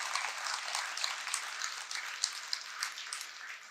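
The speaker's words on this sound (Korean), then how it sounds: "박수를 좀 크게 한번 치세요." Applause from a Buddhist dharma lecture audience rises as a dense, fairly soft patter of many clapping hands that holds steady for several seconds, with no talking.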